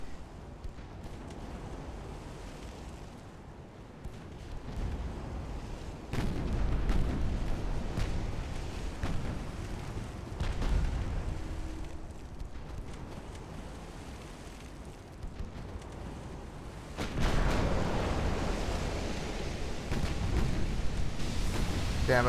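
Warship guns fire in the naval combat game Ultimate Admiral: Dreadnoughts. Deep rumbling booms swell up twice over a steady low roar of wind and sea, and a player talks now and then.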